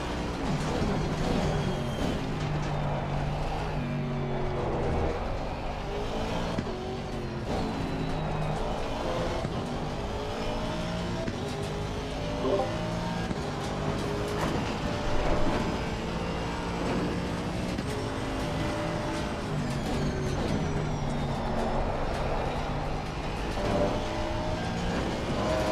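Lamborghini race car engine in Assetto Corsa Competizione during practice at Oulton Park, a steady loud engine drone with shifting pitch that runs continuously throughout, sounding close and with no talking.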